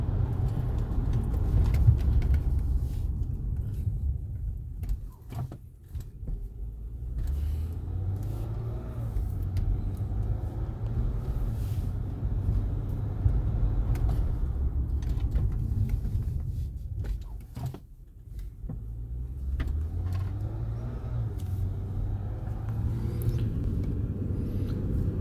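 A car drives through Detroit streets near Rouge Park, crossing speed humps; its steady, close engine rumble dips and swells briefly twice as it rolls over them.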